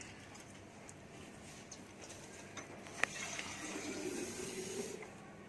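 Water is poured into a cooking pot while making an Italian parmigiana sauce, a steady close filling wash that swells toward the end with a brief clink near the middle.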